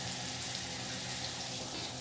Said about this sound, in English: rinse this off my hands right quick